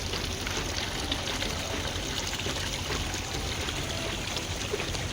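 Water falls from a lightweight fiber decorative balcony fountain, a soft, steady trickling and splashing that continues evenly at a low level.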